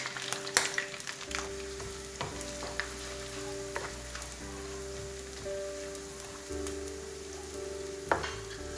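Onion and dry red chilli fry in hot oil for a lamb chop curry, a soft steady sizzle with sharp clicks of spoon on pan and a low hum underneath, no speech.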